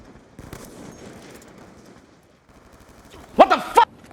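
Gunfire from the video game Black Ops II, a short burst of three or four sharp shots near the end after quieter game ambience, fairly close and loud.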